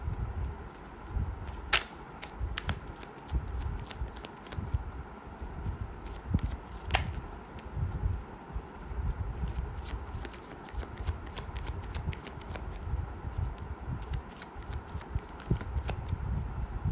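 Tarot cards being shuffled by hand, a long run of rapid riffling flicks and soft slaps in uneven bursts, close and quiet throughout with no talking.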